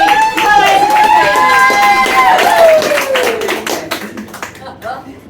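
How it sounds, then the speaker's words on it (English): Loud applause and cheering from a pub audience at a comedy and cabaret night in Ramsgate, with dense clapping and whoops at full strength before tapering off in the last seconds. "Round of applause for Lady."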